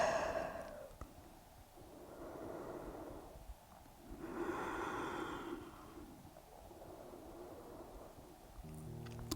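Slow, audible breaths during a yoga session, long soft inhales and exhales rising and falling, close and quiet with no talking.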